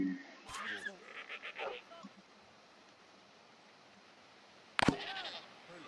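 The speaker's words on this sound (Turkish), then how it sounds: "Keçi." A goat bleats in the video game Dawn of Man, a few wavering bleats at the start followed by a quiet lull and a sharp burst near the end, with game ambience beneath.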